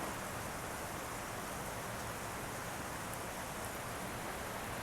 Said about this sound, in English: Very heavy rain, you can see here. See how heavy it is?